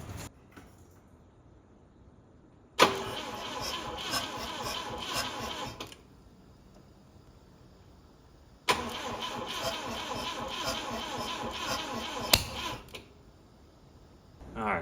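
A modified Volvo 142 engine cranks in two separate bursts of starter whirring, each lasting about three to four seconds with sharp onsets, close and loud, separated by quiet gaps.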